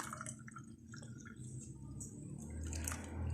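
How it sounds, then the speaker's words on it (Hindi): Milk trickles into a cup of Kashmiri kahwa, soft close pouring and dripping that grows slightly fuller toward the end, quiet and without talk. "कप के अंदर हम पहले कहवा शामिल करेंगे। अब शामिल करेंगे दूध।"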